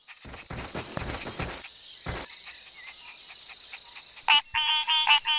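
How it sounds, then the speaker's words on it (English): Cartoon tree frogs croak at their breeding ground near a stream, a chorus of short bright calls starting faint and scattered, then swelling into loud repeated pulsing croaks toward the end, with no talk. "We found the tree frog's breeding ground!"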